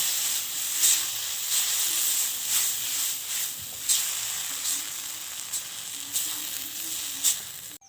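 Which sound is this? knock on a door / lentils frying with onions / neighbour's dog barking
lentils frying with onions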